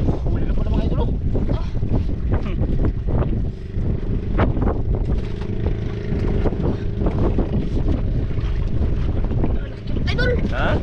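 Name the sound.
strong wind at sea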